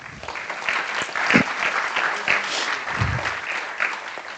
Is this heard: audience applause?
yes